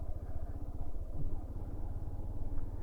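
A commuter motorcycle is ridden along a rough border road in Netrokona-Sunamganj, its engine thumping in a low, steady, pulsing rhythm up close, with faint rattles from the bumpy ride.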